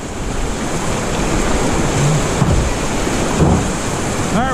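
Continuous loud roar of rushing whitewater as a raft is paddled through river rapids during a spring paddling event, a steady broadband wash with faint splashes and no clear speech.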